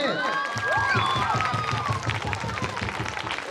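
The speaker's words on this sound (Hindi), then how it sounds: "पल्लवी और गौरव, तालियों से स्वागत करें।" Audience applause greets performers at a Saraswati Puja celebration, a thick continuous patter of clapping hands, with a brief voice or whistle-like tones near the start before settling into even, sustained clapping.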